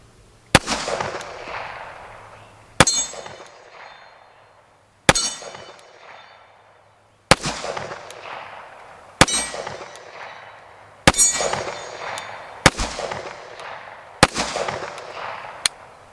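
Springfield Operator 1911 pistol shots at an outdoor range, each sharp report followed by the ringing clang of a steel target; about nine shots in uneven succession, loud and fading between hits.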